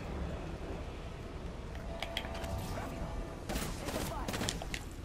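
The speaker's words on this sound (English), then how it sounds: "How am I ever being shot at?" Gunfire in the video game Apex Legends, with scattered sharp shots and a couple of rapid bursts over a continuous din of game noise, mid-distance and moderately loud.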